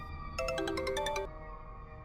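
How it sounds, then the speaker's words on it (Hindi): A phone rings with a short bright electronic melody of repeated tones lasting about a second, heard close and clear over a quiet room background. "ये क्या, सुबह सुबह इस बुड्ढे का फोन आ गया।"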